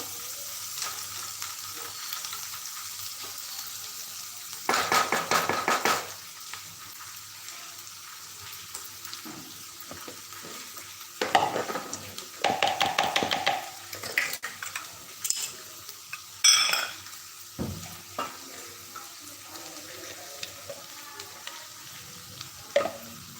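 Onions sauté in a pan with a low sizzle, punctuated by bursts of spatula scraping and stirring plus occasional clinks of utensils against the pan.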